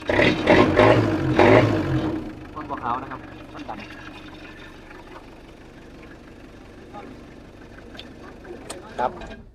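A used Mitsubishi L200 pickup truck starts up and settles into a steady, low engine idle. Someone talks loudly over the opening seconds, and scattered noises rise at times above the hum.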